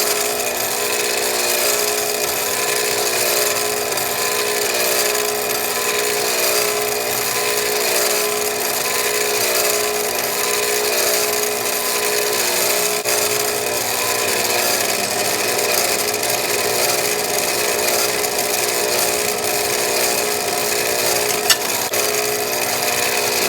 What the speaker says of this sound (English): I'm going to drill out a bolt pattern in this for the U-bolts to go through.